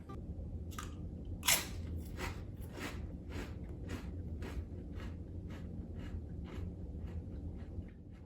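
Crunchy baked cinnamon sugar chips are bitten and chewed up close, giving a sharp crisp crunch followed by a run of smaller crackly chews over a quiet background.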